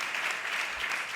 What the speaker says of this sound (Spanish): Pues un aplauso para Machín